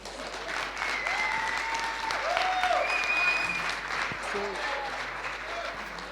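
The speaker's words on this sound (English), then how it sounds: "Round of applause" An audience at a talk event applauds in a steady, moderately loud wash of clapping, with scattered cheers and voices rising through it.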